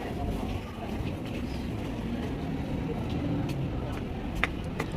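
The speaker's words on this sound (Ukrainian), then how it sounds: "Це станція метро Барберіні." A metro train rumbles steadily at Barberini station in Rome, a low continuous roar of rail noise with a few faint clicks and clanks and some distant voices underneath.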